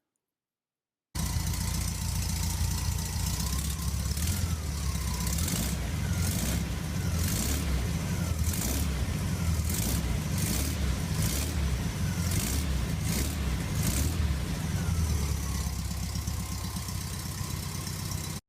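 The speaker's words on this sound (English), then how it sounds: "Next, we've got the engine running." The engine of a restored 1963 Australian VW single cab bus runs steadily after a quiet start, a loud, rhythmic air-cooled idle with pulsing beats and occasional revs heard close up.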